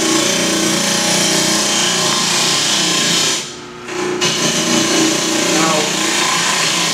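Wood lathe running while a gouge hollows a thin wooden lampshade, giving a loud, continuous scraping whir that drops briefly as the tool eases off, then resumes steadily.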